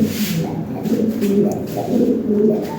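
A breeding pair of Lahore pigeons coos nearby, with soft, low, rolling calls that repeat continuously over a few seconds.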